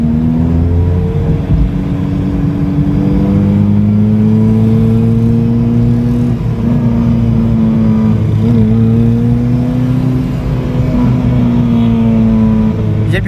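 Inside a Nissan car driving in second gear, the engine drones loudly and steadily with a rising and falling pitch as it pulls along, close and constant for over thirteen seconds with no talk.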